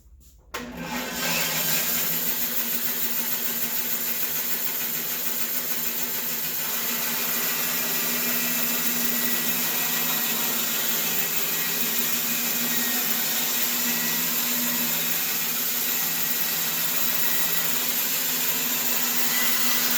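Bandsaw running while cutting a block of wood into a 1.25-inch-wide strip for a cigar pen blank, a steady loud whining drone starting abruptly and holding continuous, close and unbroken, with no voices.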